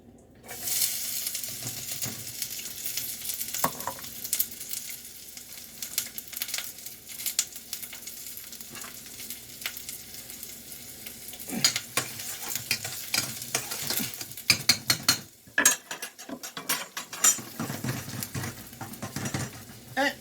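Vegetables sauté in olive oil in a pan with a steady sizzle, and stirring utensils scrape and clatter through it. The frying is louder in bursts near the end.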